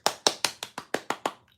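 Eight crisp, evenly spaced hand claps for a performer during a discussion of popular songs, close and clear, a single person clapping a short steady rhythm before stopping.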